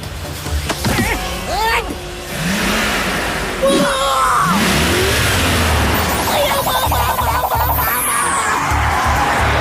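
An old, battered car revs its engine at the start of a cartoon race, with loud rising and falling engine whines layered with voices, sweeping effects and background commotion.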